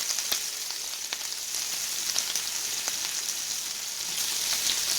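Sausage with chopped onion and green pepper frying in a pan, a steady close crackling sizzle with scattered sharp pops, no talking.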